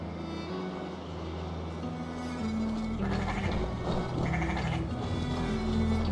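Sheep bleating in the Assassin's Creed Valhalla video game, several overlapping calls at moderate loudness over a low ambient background, with the bleats growing denser in the second half.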